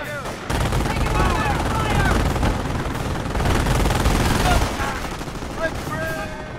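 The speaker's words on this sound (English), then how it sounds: "Enemy fire." Gunfire from the World War II strategy game Company of Heroes comes as dense, overlapping bursts of rifle and machine-gun fire. It is loud and continuous for several seconds, with brief voiced unit callouts mixed in.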